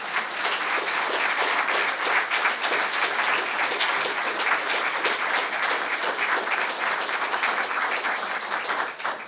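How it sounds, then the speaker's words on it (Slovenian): Sustained, loud applause from a concert audience, a dense wash of many hands clapping steadily without a break, with no voices standing out over it. "En aplavz, prosim."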